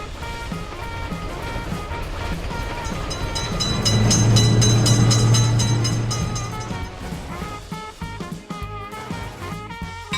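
A train runs past a road level crossing with a lifting gate for cars, its rumble and wheel clatter building to a loud close pass with a sustained horn blast, then easing off.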